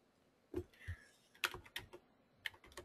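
Computer keyboard arrow keys pressed while working in Home Designer Pro software: a few separate, light, close clicks in an irregular rhythm, quiet and with no speech.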